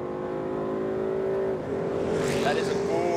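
Ford Mustang GT and Holden Commodore SS-V at full throttle in a drag race, a steady loud engine drone that shifts pitch partway through and keeps building, with a voice talking over it.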